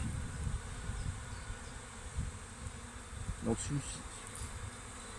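Honeybees hum steadily around an open hive during a spring inspection, a soft continuous buzz with a few louder passes of single bees near the microphone and no talk.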